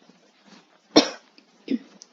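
A person who is feeling unwell gives one sharp, close cough, followed by a smaller second cough or throat-clear shortly after, in an otherwise quiet room.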